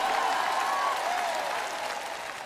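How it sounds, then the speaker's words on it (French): A congregation at a French-language sermon applauding: dense, steady clapping from a large crowd that fills the whole stretch and eases slightly toward the end. "Vous feriez aussi bien d'applaudir et de crier."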